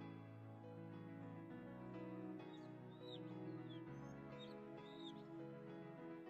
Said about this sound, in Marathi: पक्ष्यांचे आवाज येत आहेत.